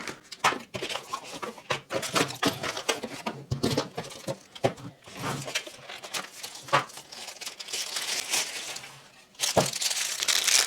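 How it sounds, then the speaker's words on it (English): Cardboard and plastic packaging of a Reolink 5-port gigabit PoE switch is opened by hand, giving close, continuous crinkling, tearing and rustling with sharp intermittent crackles throughout. "let's open the box to find out more about this product"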